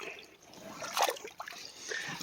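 Creek water trickling and gurgling nearby over a short stretch, with a brief louder splash midway, steady and fairly soft.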